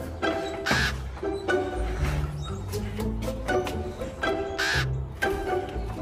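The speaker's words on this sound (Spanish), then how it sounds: "el frente de la casa estaba llena de los pájaros negros" Crows outside a house give loud, harsh caws in irregular bursts, several close together, over a steady background of room noise.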